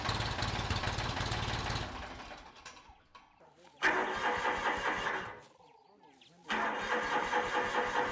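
A broken-down tractor engine is cranked repeatedly, with three loud, close bursts of churning, rattling turnover that each cut out into quiet gaps without catching, and no voices.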